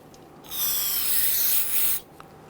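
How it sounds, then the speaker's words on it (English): A bore brush scrubs old grease out of a brake caliper slider bore on a 2011-2017 Nissan Quest, one sustained close rasping rub of about a second and a half in a quiet setting. "Use a bore brush. Run that in and out a few times. And what we're doing is cleaning out any of the old grease."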